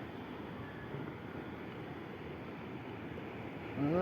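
Continuous rushing of large sea waves and wind during lure fishing, a steady broad wash of water noise, with a short tonal sound at the very end.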